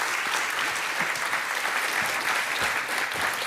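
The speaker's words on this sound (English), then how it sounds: "Please give a round of applause." A large audience at a NATO youth summit gives a round of applause for an ambassador, dense, steady clapping filling the hall at full strength with no voices on top.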